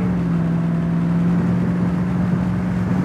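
A 1968 Chevy Camaro with a big block engine pulls along the road, a steady low rumbling drone close by that stays even throughout, with no talk over it.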